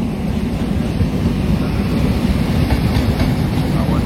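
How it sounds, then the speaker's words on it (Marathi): The Madgaon–Sawantwadi passenger train runs in at a crossing with a loud, continuous rumble and a faint clickety-clack of wheels, close and unbroken throughout. "आता येईल आपली मडगाव सावंतवाडी पॅसेंजर"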